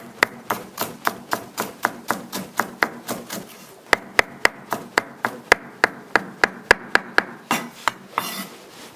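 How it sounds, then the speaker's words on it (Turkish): A knife chops finely through fresh dill on a cutting board for a vegetable soup, a steady run of about thirty sharp, close taps at a quick, even rhythm with a brief pause near the middle. "dereotunu ince ince doğrayacağız"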